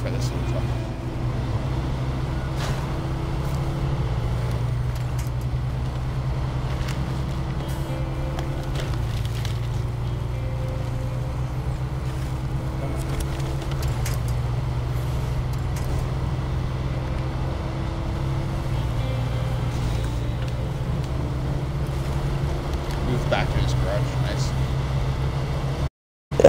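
A low, steady engine drone with shifting pitch runs throughout as a small truck climbs a hill in the game SnowRunner, with faint talking mixed underneath.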